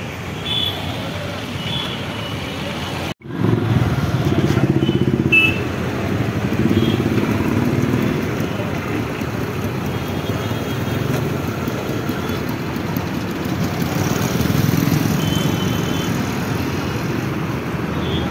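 Road traffic rolls past a flyover near a petrol pump in Aurangabad as a continuous, loud broadband roar of engines. A brief dropout comes early, then the roar carries on steadily throughout.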